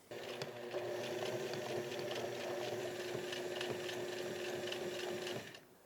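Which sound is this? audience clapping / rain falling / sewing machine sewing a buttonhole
sewing machine sewing a buttonhole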